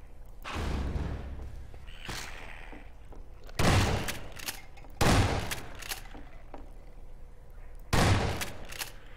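Gunfire from a weapon in the game Half-Life rings out in several separate bursts, each a loud, sharp blast followed by a short decay, with quieter gaps between them and no talking.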